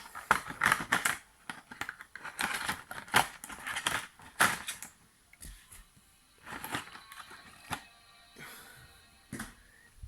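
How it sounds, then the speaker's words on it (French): Sharp ripping and slicing bursts as a blade cuts through packing tape, in irregular quick strokes with short quiet gaps between them, close by. "Toujours muni d'un couteau pour les scotch."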